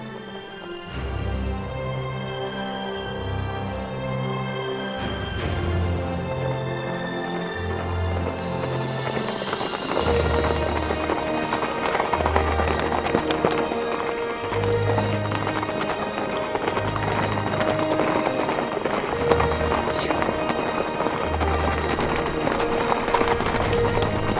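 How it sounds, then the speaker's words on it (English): Horses on a guest ranch gallop down from the hills toward the stables, a rumbling patter of many hooves building as they approach, under swelling music. "the horses race from the hills towards the stables for the week's adventures"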